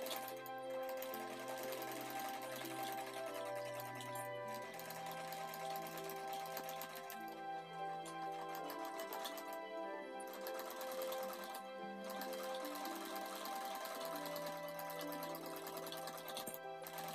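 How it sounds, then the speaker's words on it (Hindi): A sewing machine runs a long stitching pass along the design of a ladies' suit, giving a steady, close, continuous mechanical whir with brief slowdowns and no voices. "अब जो हमारी डिज़ाइन बनी हुई है इस पर हमें सिलाई लगा लेनी है"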